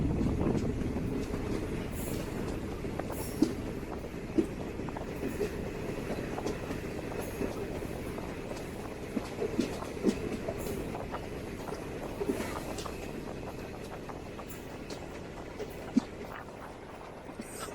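Passenger train 06889 from Trichy, on the Tiruppadirippuliyur to Vriddhachalam line via Neyveli, running toward Uthangal Mangalam station: a steady, loud rolling rumble from inside the carriage with scattered sharp wheel clicks and rattles, and no talking.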